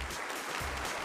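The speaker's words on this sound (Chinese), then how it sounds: "好，来，我们掌声欢迎。" An audience at a televised Peking opera stage show applauds to welcome the performers, producing a steady, dense wash of clapping that fills the whole moment without any talk.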